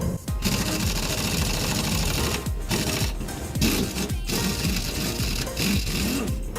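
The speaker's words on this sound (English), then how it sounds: "First thing we're gonna remove are the bolts on the shocks." Shock bolts being removed from a 2014 Chevy Silverado during a leveling kit install, with a loud, continuous rapid rattling burst, likely from an impact tool, and a few short breaks, with no talk.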